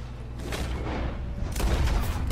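A gunshot headshot in Red Dead Redemption 2 lands as heavy booming reports, one near the start and a louder, deeper blast about midway, amid rumbling in-game noise.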